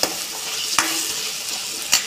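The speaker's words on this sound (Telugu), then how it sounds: "ఇలా కొంచెం ఇవి మెత్తబడేంత వరకు మనం ఫ్రై చేసుకుందాం" Onions and cashews fry in oil for an egg curry, giving a soft continuous sizzle broken by a few sharp clicks of a spoon stirring against the pan.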